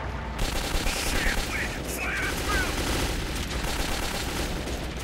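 Gunfire in the video game Metro 2033, a dense continuous clatter of rapid shots over a noisy background, loud and unbroken for several seconds.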